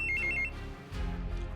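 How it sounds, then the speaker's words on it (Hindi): A mobile phone rings briefly in an indoor scene, a short bright repeating electronic trill in the opening half second, then fading into quiet room tone with a low rumble and no speech. "फोन बजा"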